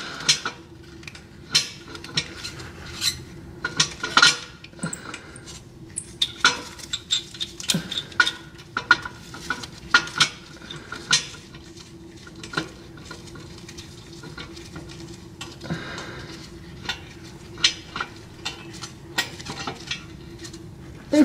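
Nuts are threaded by hand onto studs for equal-length exhaust headers on a Subaru FRS, giving scattered small metallic clicks and ticks, close and light, with irregular pauses between them.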